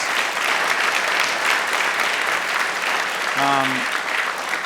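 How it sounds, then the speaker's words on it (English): Sustained applause from a live studio audience, dense and even from start to finish, with a brief voice-like tone rising above it near the end. "We're with a live audience, and you can tell from the applause."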